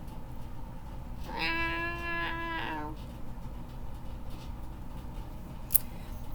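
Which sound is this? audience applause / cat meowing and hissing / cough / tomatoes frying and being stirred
cat meowing and hissing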